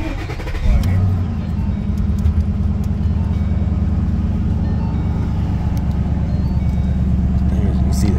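Cold start of a 2012 Ford Mustang Boss 302 with 24k miles: a brief starter crank, then the engine catches into a loud, steady, rumbling high idle close by, with a person talking over it.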